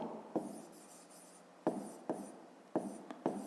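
A pen scratches across paper in short strokes separated by sharp taps and pauses, quiet and close, with no voices.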